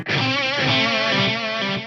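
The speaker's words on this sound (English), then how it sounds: "So pretty straightforward quarter note delay in there" Electric guitar played through a Kurzweil Rumour pedal set to a quarter-note delay, a sustained chord ringing with repeating echoes layered over it, steady and fairly loud with no voice.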